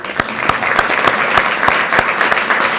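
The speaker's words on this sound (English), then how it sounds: "We can applaud now." Applause from a luncheon audience: steady, dense clapping from many hands, fairly close and moderately loud, with a few sharper claps standing out, heard alone without talk.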